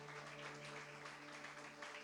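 Church congregation applauding during a service, a faint, distant wash of clapping over a steady electrical hum.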